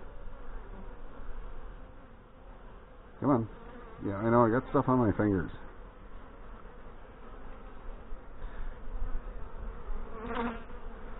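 A steady drone of honey bees fills the air at an open hive during a late-September final inspection, continuing close and even while a beekeeper talks briefly in the middle.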